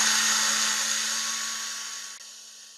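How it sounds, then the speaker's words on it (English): A power drill spinning steel wool against a stuck Briggs and Stratton engine valve whines steadily at high speed, a close, bright mechanical drone that gradually winds down and fades. "I got on this drill. I'm just going to hold the steel wool on there"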